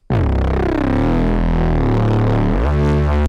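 A loud, heavily saturated Reese bass drones alone, thick and gritty with a wavering detuned texture, shifting pitch near the end before cutting off.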